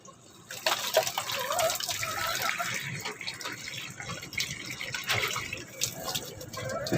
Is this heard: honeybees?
no